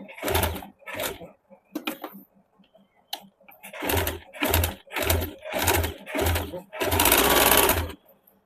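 A sewing machine stitching two layers of fabric together for a suit collar, running in short repeated bursts that grow longer, with one long sustained run near the end, close and clear with brief pauses between.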